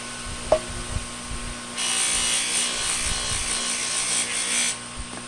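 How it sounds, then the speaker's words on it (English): A polishing wheel with a white polishing compound stick buffs a Kirby Sentria vacuum part, a steady whirring hiss starting after a brief clunk and running for about three seconds before stopping. "now time for the fine polishing using the white stick."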